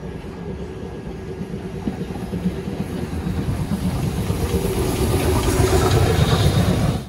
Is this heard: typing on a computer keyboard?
no